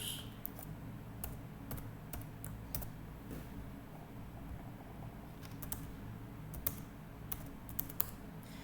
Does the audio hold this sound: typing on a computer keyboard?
yes